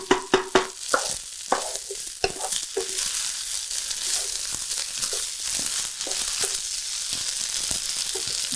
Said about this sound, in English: now you can start mixing the whole rice in with these eggs because they're going to keep cooking.